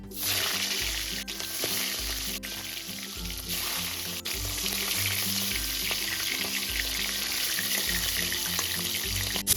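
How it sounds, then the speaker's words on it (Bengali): Hilsa fish heads fry in hot white oil in a wok, giving a continuous crackling sizzle with occasional stirring. Quiet background music plays beneath it. "এবার আমি প্রথমেই মাছের মাথাগুলো ভেজে নেবো"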